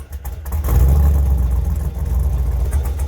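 A ZL1 V8 fitted with BBK longtubes, SLP LM1 X-pipe and axle-back, and Cherry Bomb mufflers rumbles close by, a loud, deep, lumpy burble with a slight rise in revs.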